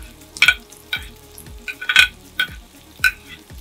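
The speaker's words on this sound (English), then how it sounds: "Scrape my shallots in the pan." Shallots are scraped from a board into a hot pan for a homemade Big Mac, giving a handful of sharp scraping clatters with bursts of sizzle in between, close and distinct, without speech.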